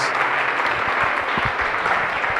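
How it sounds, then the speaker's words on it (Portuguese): A church congregation claps together in a brief, dense wash of applause, steady and close, with no voices standing out. "Aplauda ao Senhor"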